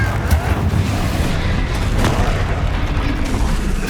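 Repeated booming blasts from the Confringo fire spell in the video game Hogwarts Legacy, loud and continuous with dense low rumble and bursts throughout, no talk.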